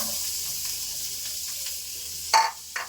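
Capsicum sizzles in hot oil for pav bhaji, a steady bright hiss throughout with two sharp spatters near the end.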